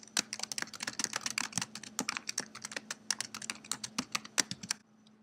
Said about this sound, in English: I'm going to type a prompt for the user in this text box